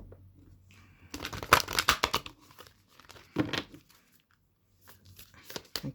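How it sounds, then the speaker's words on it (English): Tarot cards from a Moonology oracle deck shuffled by hand, a burst of crisp papery riffling and crinkling close up, followed by a couple of shorter shuffles with quiet pauses between. "I'm going to do one more shuffle."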